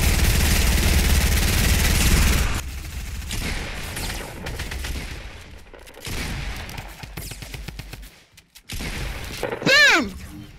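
Rapid automatic gunfire and shots from a Fortnite battle royale match, loud and dense for the first couple of seconds, then sporadic bursts and clatter, with a rising whistling effect near the end.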